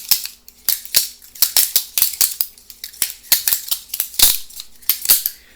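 A plastic Cold Steel butterfly knife flips over and over, its handles clacking in quick, irregular bursts of sharp clicks, close and fairly loud with no talking.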